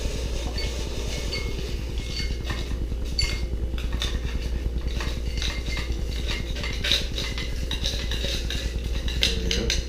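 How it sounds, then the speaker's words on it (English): A Kentucky Mule cocktail being stirred, with a spoon clinking against the glass and ice in a quick, continuous rhythm over a steady low rumble, close and fairly loud. "And then we're gonna stir."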